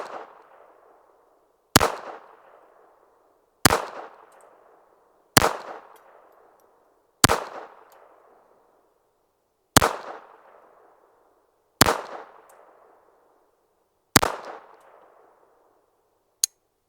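A Retay Arms RXP 22 rifle fires Federal Auto Match .22 ammunition at a range, eight sharp single cracks spaced about two seconds apart, each followed by a short ringing decay, then a faint click at the end.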